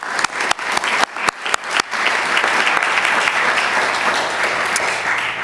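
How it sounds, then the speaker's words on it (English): Lecture audience applause: a few separate sharp claps at first, then a full round of steady clapping from a seated crowd that holds evenly to the end. "give a short round of applause"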